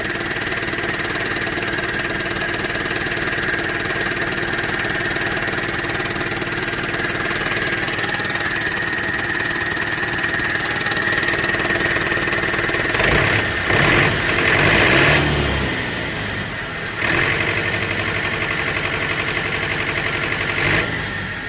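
A Mahindra tractor engine idles steadily with a continuous mid-pitched drone and harmonic hum, joined by sharper clattering bursts toward the end.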